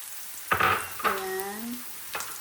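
Chopped garlic goes into a hot pan for ginisang ampalaya and gives short sizzling bursts against a quiet background, with a brief tonal sound in the middle.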